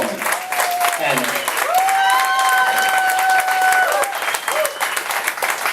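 Audience applause and cheering fill a live tribute event for Sue Barrett, with steady dense clapping and whoops throughout, a few shouted voices and a sustained whistle-like cheer rising above the crowd.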